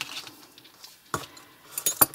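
Knitting needles, including a 5.5 mm needle, clack together in a few light, close clicks and taps, separated by quiet gaps, with no talking.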